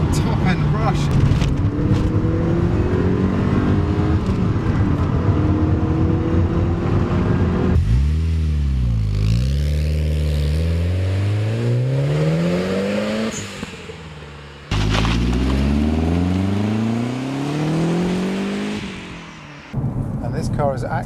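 Mk3 Ford Focus RS engine pulling hard to the top end, a loud, close, rising roar that climbs through repeated gear pulls with brief dips at shifts, as a voice talks over parts of it.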